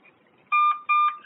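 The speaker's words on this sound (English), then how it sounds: "All right, lift up after that beep." Two loud electronic beeps from a fingerprint scanner screen at a police booking station, each a clear steady tone lasting about a third of a second, separated by a short gap and close to the microphone.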